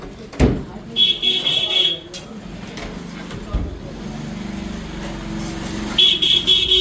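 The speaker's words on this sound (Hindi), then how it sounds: "पता नहीं किसको ये हॉर्न मारे जा रहा है पागला।" Car horns honk on a busy street in Kashi, with two long sustained blasts and short bursts of traffic noise between them, fairly close and loud.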